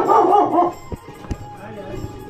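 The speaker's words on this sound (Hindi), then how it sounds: "ओह एक कुत्ता च" A dog in a hillside village in Pauri, Uttarakhand, gives several quick, close barks and yips at the start, then a few sparse sharp sounds over quiet rural background.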